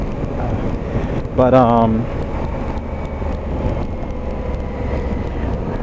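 A Honda Africa Twin motorcycle rides figure 8s on loose gravel. A continuous low engine and tyre rumble with wind noise carries throughout, and a brief spoken word rises over it near the start.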